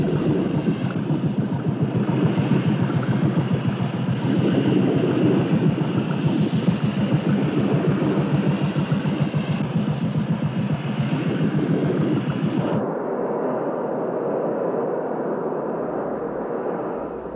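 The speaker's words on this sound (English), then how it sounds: "the launch crew cranks to life a fire pump attached to a water jet" A fire pump driving a water jet drones on a launch at a shipwreck dive site, a loud, steady mechanical roar that drops to a lower, thinner running tone near the end.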